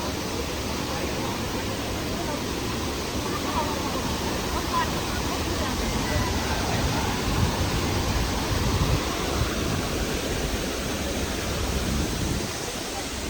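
Water flows steadily on the MIT campus, making a continuous broadband rush close by that holds level throughout, like a small stream or spillway.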